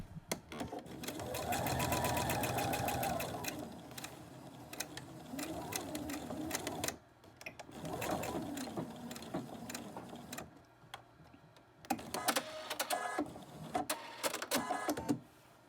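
A sewing machine stitches a fabric face mask, running in long steady bursts with short pauses between, close and clear, with a little quiet talk at times.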